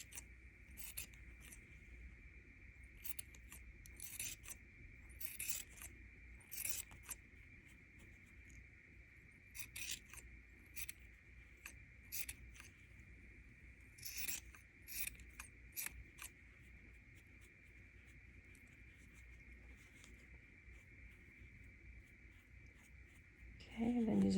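Scissors snip through a cardboard paper towel roll being trimmed into a craft hat, a run of short crisp cuts in irregular bursts, close and moderately quiet over low room noise.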